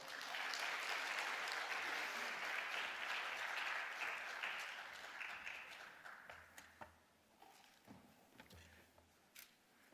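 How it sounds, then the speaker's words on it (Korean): A church congregation claps for Pastor Kim Geon-hoon at a New Year special dawn prayer service, a soft, fairly distant burst of applause that fades out into scattered quieter taps and room noise. "나올 때 우리 잘 해달라고 박수해 주세요"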